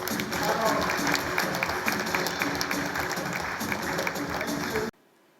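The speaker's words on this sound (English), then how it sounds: "A round of applause." Crowd applause at the launch of the Kenya Climate Innovation Center strategic plan, sustained energetic clapping from a large audience that stops abruptly into near silence near the end.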